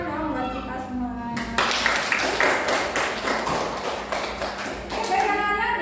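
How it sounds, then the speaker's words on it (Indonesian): A classroom group claps together in a burst of applause that runs for several seconds, following a teacher's spoken request and mixed with some talk. "Beri tepuk tangan dong buat kita semua."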